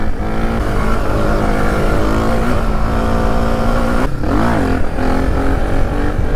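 Suzuki DR 350 dirt bike climbing a trail, its single-cylinder engine droning loud and close throughout, with a brief dip and rev change near the end.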